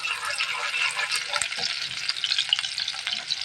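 Onions sizzle steadily in a hot pan for a potato, eggplant, jackfruit seed and dried fish dish, with a close, crackling hiss and light stirring scrapes throughout.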